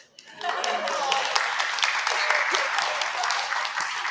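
A room of business listeners applauds at a Chamber of Commerce talk, a dense, even wash of clapping that starts abruptly and holds steady at moderate loudness throughout.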